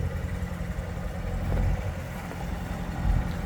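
A car engine idles steadily while warming up, a low rumbling hum with slight swells in level, close by and with no talking.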